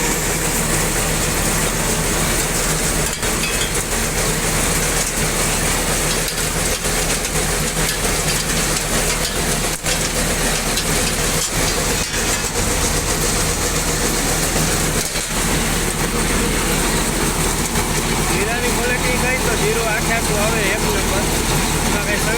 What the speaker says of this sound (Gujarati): મશીન હાલે એટલે ટ્રેક્ટરની ઘોંઘાટ આવી રાખીએ